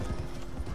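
Horse hooves clip-clop in the Red Dead Online video game, a quick run of close, steady hoofbeats over a low rumble with no talking.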